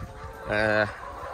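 One seven-month-old layer chicken in a poultry shed lets out a single short, nasal call over a low, murmuring background.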